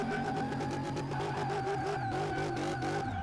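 Nissan 240 drift car engine in a video game, a steady loud drone with revs wavering up and down throughout and no talking.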